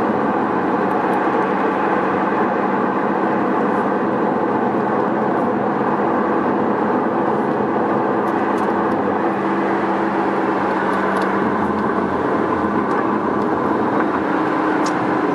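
A Ferrari 458 Speciale engine heard from inside the car while driving, a loud, constant roar and road drone that holds steady throughout, with no talking.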